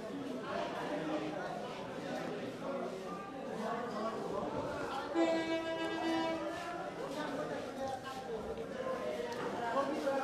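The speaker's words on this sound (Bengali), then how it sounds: "এই মুহূর্তে কিন্তু একটি ট্রেন এসেছে" A train pulls into Kamalapur railway station while a crowd of passengers chatters around it. A tonal horn-like call rises briefly midway over the constant rumble and voices.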